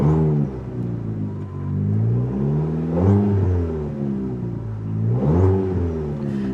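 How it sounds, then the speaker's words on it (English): A 2020 Chevy Sonic engine revs under throttle, climbing and falling in three distinct swells over an idling base, loud and close with no talking. "Let's give it a little throttle."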